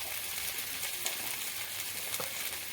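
Spices and turmeric powder sizzle in hot oil for a Bengali spinach and prawn dish, a steady close crackling fry with a few faint stirring clicks and no talking.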